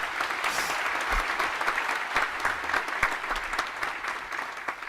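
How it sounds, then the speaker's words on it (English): A graduation ceremony audience gives warm applause to a brass ensemble and singer, dense steady clapping with a few sharper individual claps standing out, no talking. "Please let's give them a warm round of applause as they leave."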